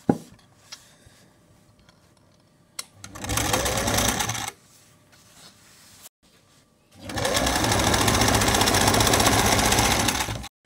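A sewing machine stitches a long gown in two loud, steady bursts of rapid mechanical whirring, the first short and the second longer, separated by quieter ticks and handling clicks.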